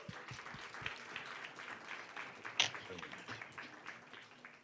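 Applause from a panel-event audience greeting a session moderator, a dense steady patter of many hands held at moderate level, with a few stray louder claps.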